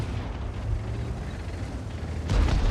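Tank cannon fire in World of Tanks as a WZ-132 battles near the capture point: a low, steady rumbling battle bed that ends in a single loud boom.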